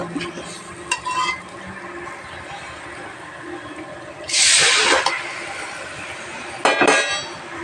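Chicken added to a hot steel pan and stirred while frying, with a loud hissing sizzle bursting in midway and again near the end, amid scattered metallic clinks and scraping of the stirring utensil.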